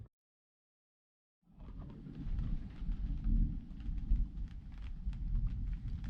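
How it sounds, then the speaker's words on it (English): A thunderstorm at sea brings low, rolling rumble with steady rain noise, starting after a brief silence and continuing as a dense wash for several seconds. "you can see that thunderstorm forming south of us here and just starting to cross south of us, expanding out"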